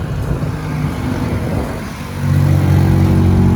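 A Datsun 240Z with rebuilt hubs and a new brake setup, its engine running as the car drives, a steady rumbling drone that grows louder and heavier partway through.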